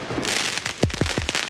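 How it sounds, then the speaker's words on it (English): Fireworks set off by young people during night-time riots in a suburb near Paris crack and pop in a rapid series of sharp bursts over a steady hiss of background noise, heard from a moderate distance. "Young people let off fireworks and set dumpsters and bushes on fire in the early hours on Tuesday in a suburb near Paris"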